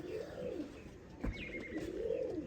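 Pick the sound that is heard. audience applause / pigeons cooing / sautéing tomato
pigeons cooing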